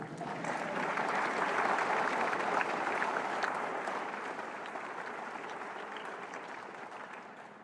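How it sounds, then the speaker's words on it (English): An indoor audience at a college convocation gives a sustained round of applause, a dense wash of clapping that swells early and then slowly fades. "yeah, you can clap."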